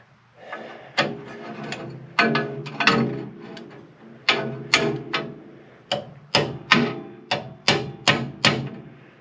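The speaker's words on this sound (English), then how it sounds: "we're going to try a little bit smaller hammer and a longer punch" A hammer strikes a metal punch against a coil spring repeatedly in sharp, ringing blows, irregular at first and then quicker and more regular, close by with no talking.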